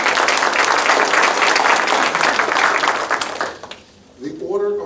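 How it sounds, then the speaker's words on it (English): Audience applause at a school PTA candidates meeting, with a steady dense wash of clapping that fades out near the end before a speaking voice begins. "Will you please give them a round of applause?"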